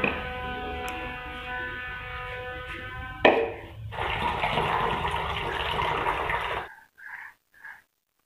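Water splashes steadily onto small, dried-out potted plants, a few seconds of continuous close pouring. Before it comes a tonal hum, and after it two or three short faint sounds.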